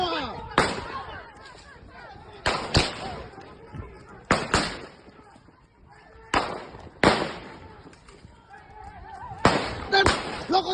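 Gunfire breaks out during a clash between regular police and Brimob officers in Tual, Maluku: loud sharp cracks come singly and in quick pairs at irregular intervals, echoing, while people shout in the background.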